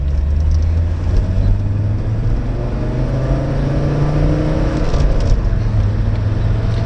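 An Audi 100 C3 Avant with a non-turbo diesel engine drives along, its low, steady drone and clattery rumble heard from inside the car, rising slightly in pitch as it pulls, with no voices.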